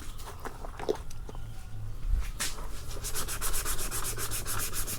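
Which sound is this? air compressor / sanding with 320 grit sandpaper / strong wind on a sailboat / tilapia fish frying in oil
sanding with 320 grit sandpaper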